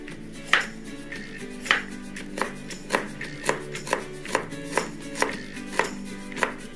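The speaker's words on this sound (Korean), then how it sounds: "당근을 썰겠어요" A knife chops carrots on a cutting board in a restaurant kitchen, a steady series of crisp, close thuds at roughly even intervals with a faint tonal background hum.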